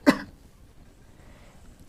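An elderly woman gives a single short, harsh cough close by, followed by near silence.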